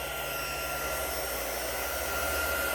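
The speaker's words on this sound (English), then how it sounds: "It's an embossing tool to help you emboss your stuff." A steady, whooshing blast of hot air from a small electric embossing heat tool, constant and close, with a faint low hum underneath.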